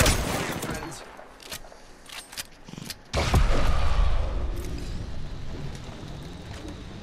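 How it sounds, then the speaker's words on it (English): Gunfire in a multiplayer shooter video game, with bursts of rapid shots and clattering mechanical game sounds. The firing turns heavier and more sustained partway through and stays loud to the end. "Opening fire."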